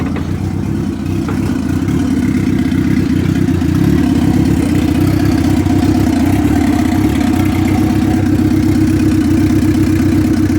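A Honda B20V turbo engine in a lifted Lariat idles with a steady, slightly uneven low rumble, continuous and close for the whole stretch, with no talking.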